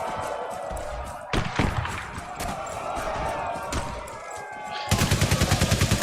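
Enemy gunfire in Valiant Hearts: The Great War sounds in sharp, loud shots over battlefield noise, then ends in a fast, even machine-gun burst.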